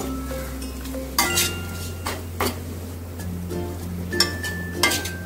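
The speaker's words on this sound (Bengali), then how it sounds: "চিনিটা দিয়ে একটু নেড়ে নেব।" A spoon stirs sugar into lemon-scented chicken masala with yogurt in a pan, making soft scrapes and a few sharp metallic clinks against the pan over a faint background hum.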